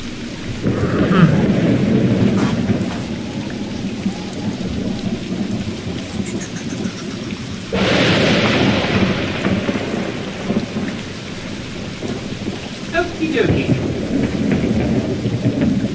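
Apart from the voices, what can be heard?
rain and thunder, ambient sound effect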